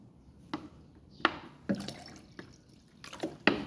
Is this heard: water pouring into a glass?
yes